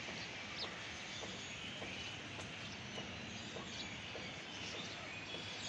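Chickens on a rooftop garden cluck faintly and at a distance, with a few short scattered calls over a steady background hiss. No one speaks.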